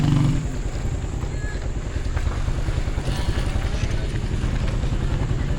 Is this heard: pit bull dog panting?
no